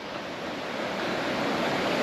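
River Carnoch in the Scottish Highlands rushing beneath an old bridge, a steady broadband roar of flowing water, close and loud, with no voices.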